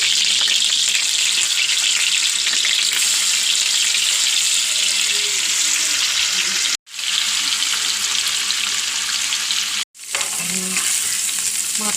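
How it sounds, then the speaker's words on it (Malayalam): Sardines fry in a pan with a loud, continuous hissing sizzle, broken twice by brief cut-outs, and no talking over it. "നമുക്കിട്ട് ചാള വറുക്കണം."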